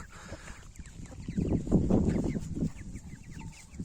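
Chickens clucking nearby, a cluster of short throaty calls swelling in the middle and then tapering off, with faint higher bird chirps around them.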